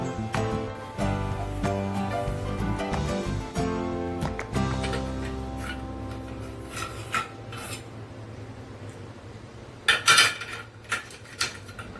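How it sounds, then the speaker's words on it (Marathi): Dried homemade sugar gathi candies clink and rattle against a dish in a series of bright, hard taps, dense at first and then thinning into scattered sharper knocks, with no voices. "तुम्ही पाहू शकता ह्याचा आवाज मस्त आणि छान असे सुकलेले आहेत या साखरेच्या गाठी"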